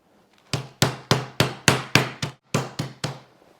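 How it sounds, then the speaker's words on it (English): A hammer pounds a beef tenderloin flat with about nine sharp, close blows in a quick, slightly uneven rhythm, each a crisp thwack on the meat and board, with brief quiet before the first strike. "I'm going to beat the shit out of this with a hammer and flatten it out"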